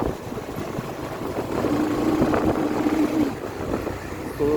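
Steady low engine drone of a motorcycle riding on a village road near Kushma, a continuous rumble that swells slightly midway, no talking.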